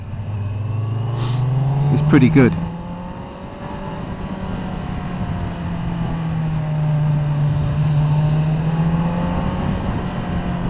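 A 2020 Kawasaki Z900 motorcycle in full power mode running on the road, its engine note droning and shifting pitch as the throttle closes, under loud wind rush, with a rider speaking briefly over it.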